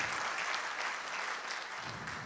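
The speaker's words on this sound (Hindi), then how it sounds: "ताली बजाओ।" A poetry gathering audience at a kavi sammelan festival claps steadily, a dense, sustained round of applause that holds level for a couple of seconds with no voices over it.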